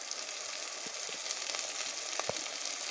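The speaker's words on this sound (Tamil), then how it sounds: "நம்ம இதெல்லாம் வந்து எண்ணெயிலே நம்ம நல்லா போட்டு வணக்கி எடுத்துக்கணும்." Coriander leaves sizzle as they sauté in hot oil for a Ramadan fasting porridge, a steady close frying hiss with a few soft stirring knocks, no voices.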